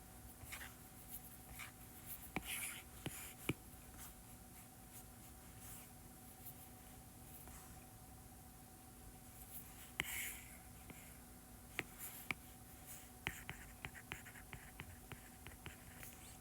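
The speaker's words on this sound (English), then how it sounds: "Let me just write carbonate." Someone writes on a board while teaching a chemistry review, giving faint, scattered scratchy strokes and small taps over a steady low hum, with breathy pauses between bursts of writing.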